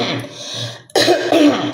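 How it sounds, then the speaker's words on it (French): A cough from a man with a cold, a short hoarse burst near the start, then a louder throat-clearing cough after a brief pause, close and alone. "j'ai pris un coup de froid dans le bloc, donc je tousse un peu"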